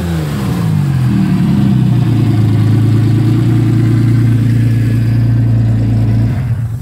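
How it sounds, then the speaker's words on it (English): A 1988 Ford Sierra XR4x4 engine drones loudly and steadily, revving briefly at the start and then holding a deep, rumbling exhaust note close to the microphone. "but you can't really get above that exhaust, can you?"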